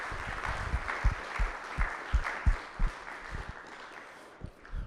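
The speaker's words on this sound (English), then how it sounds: "give George a big round of applause" Audience applause at a seminar, broad clapping from a crowd with a series of louder, regular thumps rising above it, fading toward the end.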